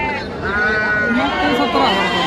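A young goat kid, only a few days old, bleats loudly and close by at a livestock market in Lonand. Steady crowd chatter and background noise run beneath it.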